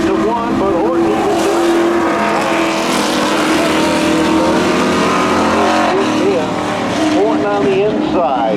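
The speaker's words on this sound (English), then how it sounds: "they come off the corner, the drag race down to the strike" Race cars in a spectator drag race at a summer drags showdown roar loudly down the straight, a dense, sustained engine howl with a commentator talking over it throughout.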